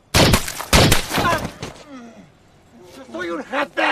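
Two sharp, loud gunshot blasts crack close together near the start of a film scene of CIA agents fighting Mexican drug-cartel mafia, with speech and a quieter action soundtrack following.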